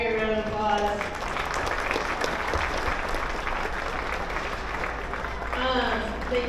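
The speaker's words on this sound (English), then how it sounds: "let's give all these kids out here a round of applause." Audience clapping for the kids at a show steer competition, a sustained, even round of applause filling the arena, with an announcer's voice speaking briefly at the start and the end.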